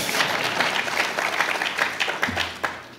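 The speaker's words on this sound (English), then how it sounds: "we can applaud" An audience at an evening talk gives continuous applause, a dense steady patter of many hands that stays moderately loud throughout, with no speech over it.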